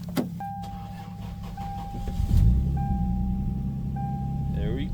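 A Lexus GS300 with a swapped engine, primed with carb cleaner after running out of fuel, cranks and catches to a low rumbling idle, with repeated electronic chimes sounding over it.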